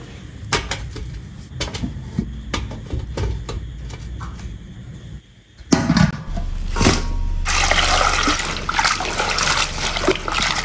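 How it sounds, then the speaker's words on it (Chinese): Clean water is poured into a pot or steamer while making pumpkin buns; after a few small kitchen knocks, a close, loud continuous pouring and splashing stream begins and runs steadily to the end. "加适量的清水"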